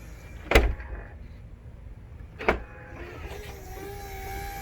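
A BMW E66 trunk hydraulic pump with air in the line runs: two sharp clunks a couple of seconds apart, then a steady motor whine with a wavering pitch, near and fairly quiet.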